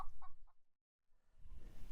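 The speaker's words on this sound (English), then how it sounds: "Sorry about this hen." A hen clucks close by in a few short bursts, then falls quiet before rustling, scuffling noise fills the rest.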